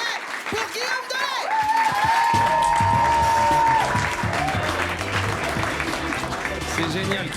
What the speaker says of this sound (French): Qui c'est qui vous a dit d'arrêter d'applaudir?